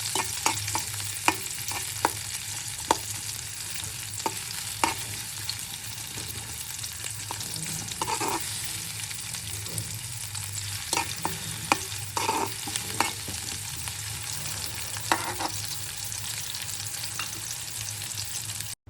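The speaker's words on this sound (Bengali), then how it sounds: "তেল সামান্য গরম হলে পেঁয়াজ দিয়ে বেশ কিছুক্ষণ কষাবো।" Onions sauté in hot oil in a pot, a steady close sizzle broken by regular sharp clicks of a spoon stirring against the pot.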